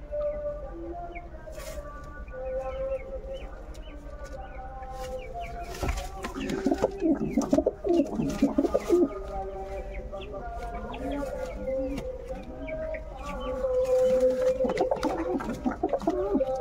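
King pigeons coo repeatedly at close range, a pair perched up high and one bird sitting alone below, with a steady run of low, throaty calls that swell louder toward the end.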